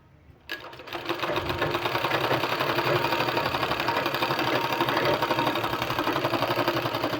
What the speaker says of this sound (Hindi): इस तरह से पूरे में सिलाई लगा लेना है